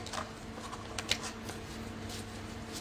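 Tarot cards being shuffled up close, short riffling bursts with brief pauses in an otherwise quiet room.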